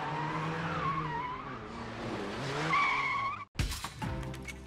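Engine roar and tire squeal from a car skidding in a video game, sustained and loud for about three seconds, then a sharp crash-like break followed by clattering impacts.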